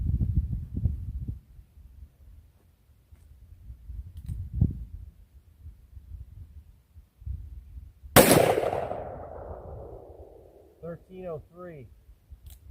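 A single sharp, loud shot from a Smith & Wesson Model 629 Performance Center .44 Magnum revolver with a 2 5/8 inch barrel, ringing out after quiet rumbling, with a short spoken remark following.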